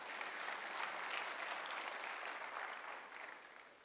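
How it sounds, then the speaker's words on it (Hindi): An audience applauds at a wellness-company success event, with dense, sustained clapping that stays loud and then tapers slightly toward the end. "बजा लो ताली"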